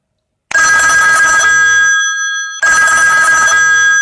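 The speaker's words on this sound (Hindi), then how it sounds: "जैसा कि आप देख रहे हैं मेरे नाम की रिंगटोन बन चुकी है" A personalized name ringtone with a telephone bell sound rings out loud and close in two bursts, a short gap between them.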